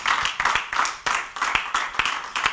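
A church congregation clapping in a fast, rhythmic pattern, sharp claps repeating steadily and loudly, with a faint voice in the background.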